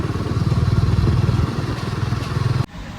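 A motorcycle engine putters with a steady, pulsing rumble as it rides along close by, then cuts off abruptly near the end.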